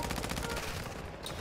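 Rapid gunfire from a Call of Duty: Modern Warfare II match, a dense run of shots close and loud, continuous across the short stretch with no talk over it.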